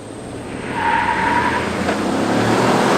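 A 2017 Ford F-150 pickup with a 10-speed transmission accelerates from 0 to 60 mph on a track, its engine rising steadily to a loud, strained roar heard from up close, with a brief faint whine partway through.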